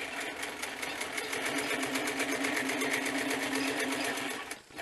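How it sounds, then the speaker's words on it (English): Sewing machine stitching a bushcraft working vest, running steadily in a fast, even needle rhythm at close range for several seconds before briefly slowing at the end. "I'm going to sew down and then sew back up again, locking the stitch."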